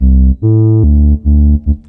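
A loud, clean speed garage synth patch with no oscillator detune plays a short sequence of sustained notes, each tone pure and steady with no chorusing or wobble, no voices present.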